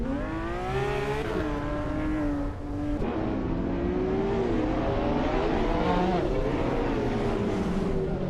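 A Zenvos T1 supercar engine in a racing video game drones and revs continuously, its pitch rising and shifting through gear changes, steady and fairly loud with no talk over it.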